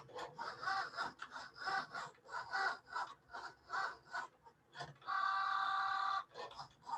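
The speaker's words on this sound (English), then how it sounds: "It's a much simpler machine. And it's cutting." An electronic cutting machine slices a card, giving a faint, rhythmic series of short whirring pulses followed by a longer buzzing motor run before the pulses resume.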